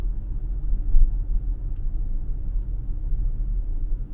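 A car coasts with the accelerator released while approaching a distant traffic signal, giving a steady low road and engine rumble with no distinct events, close and continuous throughout.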